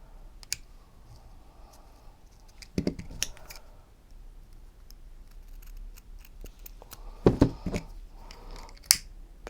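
Quiet scissor snips cut through satin ribbon for a kanzashi flower, a few crisp clicks spaced apart in a quiet room, with a couple of clustered cuts.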